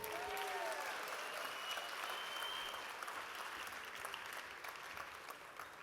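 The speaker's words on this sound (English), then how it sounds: "One more round of applause for Graded." Audience applause at a school fine arts opening ceremony, a steady wash of clapping from a large crowd that carries through the whole stretch, with a faint whistle near the start and no talk over it.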